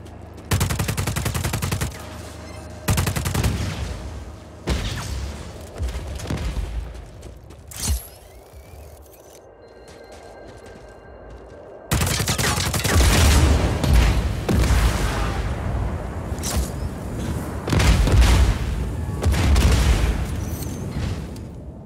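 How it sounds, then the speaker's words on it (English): A Black Hand service rifle with an underbarrel grenade launcher fires in the video game Just Cause 4: loud rapid bursts and booming blasts come in stretches, broken by a quieter gap with clicks and mechanical clatter. "That's a standard issue Black Hand service rifle. With an underbarrel grenade launcher."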